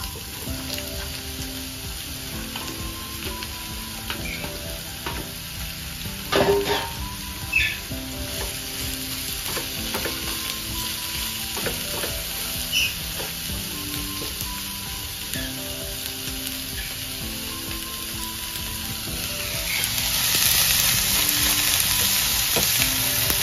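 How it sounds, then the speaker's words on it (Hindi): Onion hits hot oil in a pan and sizzles steadily for the whole stretch, with a few louder crackles and stirring clinks, and the frying grows brighter and fuller near the end. "तेल तापोवन म्हणटरी हांव हें कांदो घात तितून"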